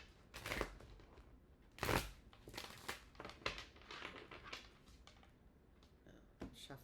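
Tarot cards being shuffled by hand, a run of crisp riffling and crinkling bursts of varying strength, close up and quiet with no talking.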